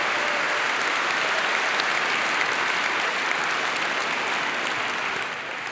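Sustained applause from a large theater audience in Vancouver fills the space with dense, steady clapping, easing slightly in the final moment.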